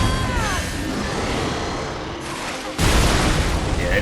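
Explosions in the video game Lies of P: dense booming blasts and crackling bursts fill the clip, with a sharp louder impact near the end, mixed with game effects and no clear talk.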